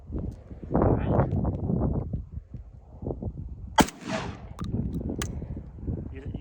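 Shotgun fired outdoors: one sharp, loud blast with a brief noisy tail cuts through people talking nearby, followed by a few fainter clicks and knocks.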